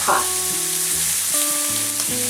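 Shrimp sear in a pan over medium heat, turned to cook about a minute on the second side, with a continuous close crackling sizzle and a faint steady hum beneath it.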